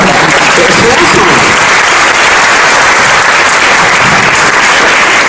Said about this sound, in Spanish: Aplaudan todos, por favor.